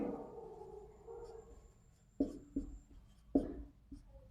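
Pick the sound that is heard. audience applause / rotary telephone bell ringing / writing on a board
writing on a board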